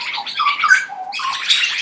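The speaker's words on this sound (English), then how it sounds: "the birds are very loud here" Loud birds chirp and squawk outdoors in a dense, close chorus of overlapping calls that carries on without a break.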